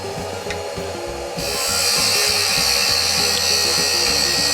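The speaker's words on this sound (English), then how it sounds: "Now what I'm going to do is use a beading parting tool." Wood turning on a lathe for a kitchen utensil handle, a beading parting tool cutting the spinning wood with a steady rasping, scraping drone that grows louder and brighter after the first second and holds close and continuous, with no talk.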